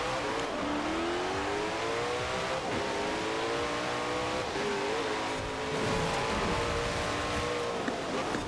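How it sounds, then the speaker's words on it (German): An old Mercedes formula race car in Forza Horizon 4 screams along at high revs, its engine note rising and falling steadily with shifts for several seconds, loud and close with no pauses. "Aber ja, das ist der alte Formelwagen."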